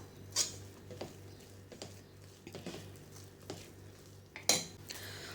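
A spoon works jackfruit batter flavoured with ground cardamom in a bowl, making quiet scraping and stirring sounds with a few sharper clinks against the side, up close and without speech.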